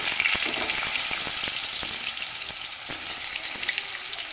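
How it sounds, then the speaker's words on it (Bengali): Potato pieces frying in hot oil give a bright, dense crackling sizzle up close. It starts strong and eases slightly, with a few soft stirring knocks and no voices. "প্রথমে আমি আলুগুলি ভেজে নেব"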